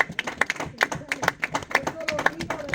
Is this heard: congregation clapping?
yes